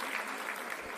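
Applause during a legislative assembly session in Karnataka, a dense, steady clatter of many hands clapping across the whole moment, fairly quiet and without voices over it.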